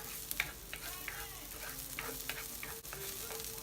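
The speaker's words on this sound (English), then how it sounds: "And then next I'll put the onion." Onion sizzling in a hot pan, a faint, steady frying hiss with scattered small ticks and scrapes from stirring, close but quiet, with no talk.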